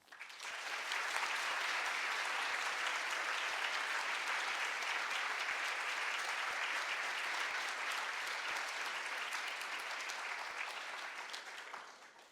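An audience at an evening lecture applauds steadily for about twelve seconds to welcome the speaker, a dense, even wash of clapping that starts abruptly and fades out at the end.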